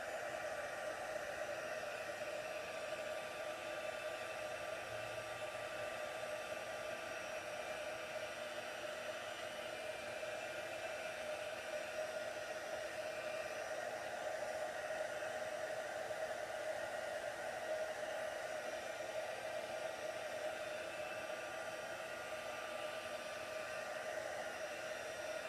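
A heat gun runs steadily throughout, melting embossing powder on a paper craft die-cut of branches and pine cones, a continuous close airy whir with a constant tone and no pauses.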